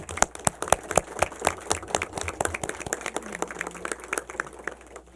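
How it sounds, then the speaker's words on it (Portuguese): An audience at a municipal committee meeting for the elderly and retirees claps in a sustained round of applause, moderately distant, with irregular overlapping hand claps over a few seconds and no voices on top. "uma salva de palmas para ele."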